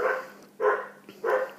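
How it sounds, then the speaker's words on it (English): Dogs bark in three loud, evenly spaced bursts about half a second apart, close by, with no talking over them. "obviously the dogs went crazy"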